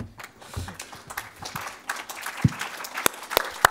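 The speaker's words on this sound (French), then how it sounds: "Effectivement, on peut l'applaudir" Applause from an audience at an agricultural direct-marketing awards ceremony, starting as a soft wash of clapping that thins into a few sharper, isolated claps toward the end.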